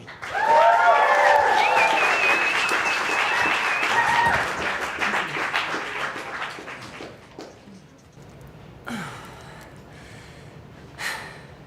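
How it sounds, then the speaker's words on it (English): A crowd bursts into loud applause with cheers and whistles, then the clapping fades into scattered claps and murmurs. "Make some noise for Alex J."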